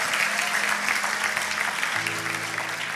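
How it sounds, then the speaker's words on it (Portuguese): Church congregation clapping, a brief burst of steady, fairly loud applause filling the hall, with a faint musical tone emerging underneath toward the end. "Dê uma salva de palmas a Jesus"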